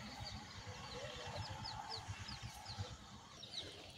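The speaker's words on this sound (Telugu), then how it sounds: "ఇదిగోండి కోళ్ళు, ఇది ఇక్కడ కోళ్ళు ఉంటాయి." Chickens clucking at a farm coop, faint and somewhat distant, with soft repeated clucks beneath a run of brief high chirps.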